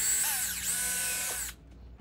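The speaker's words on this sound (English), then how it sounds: "Then I'm drilling a hole to mate with the pin that is already on the upper part" A power drill bores a hole into the foot of a camel sculpture under restoration, a steady high-pitched whine with shifting pitch for about a second and a half before stopping abruptly, close and fairly loud.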